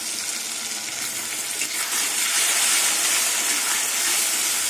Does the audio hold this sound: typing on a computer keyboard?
no